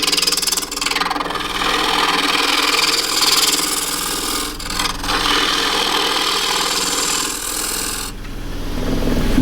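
A wood lathe spins a bark-rim bowl while a shallow gouge trues up the foot, making a loud continuous rasping, scraping cut over the motor's hum, with brief dips as the tool lifts and re-engages.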